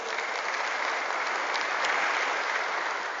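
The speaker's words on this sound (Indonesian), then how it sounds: "Terima kasih, tepuk tangan BPJS." Steady audience applause at a BPJS Ketenagakerjaan presentation, a dense even wash of many hands clapping together with no gaps, sustained and moderately loud throughout.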